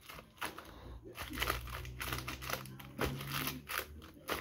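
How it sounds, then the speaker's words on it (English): Pokémon trading cards being shuffled by hand, a soft rustling, flicking and crinkling texture that runs steadily throughout, quiet and close with no talk. "Let's shuffle them up a bit."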